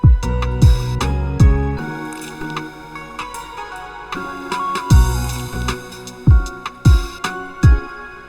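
A mellow, lo-fi hip-hop beat with punchy kicks and snares over soft, warm chords, the drums dropping out briefly midway before returning.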